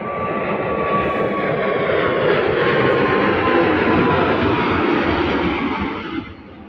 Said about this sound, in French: je ne peux pas faire 3 minutes sans qu'un avion vole ma tête ici